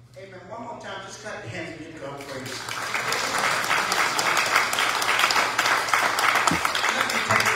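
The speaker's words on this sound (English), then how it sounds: "One more time, just clap your hands and give God praise" A congregation at a church homegoing service bursts into hand-clapping praise after a spoken prayer and amens, the clapping building loud and dense with voices mixed in.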